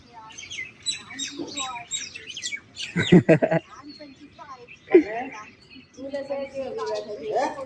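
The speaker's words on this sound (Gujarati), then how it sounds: "જો કેટલા બધા પક્ષીઓ આવ્યા." Many small birds chirp and tweet in bursts near a home in the morning while being fed bread, with people talking over and between the calls.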